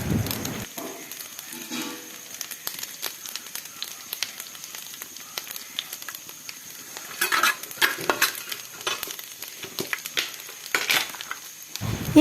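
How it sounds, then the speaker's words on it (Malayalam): Chicken roast masala frying in a pan is stirred with scraping and crackling, a steady low sizzle building into louder bursts near the end, with no talking. "കരിഞ്ഞു പോവാതിരിക്കാൻ ഇളക്കി കൊടുക്കണം."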